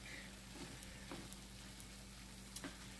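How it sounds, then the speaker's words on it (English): Onions and green peppers sweat down in a pan with a soft, steady sizzle, faint and continuous, broken now and then by small crackles. "cook it down till we sweat these onions and green peppers down"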